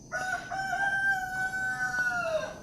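A single rooster gives a long, clear cock-a-doodle-doo, one sustained crow at moderate distance, heard alone without talk.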